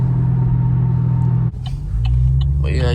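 A Chevy SS with a 6-speed gives a steady, loud low engine rumble from inside the car, dipping briefly then settling back as someone talks over it.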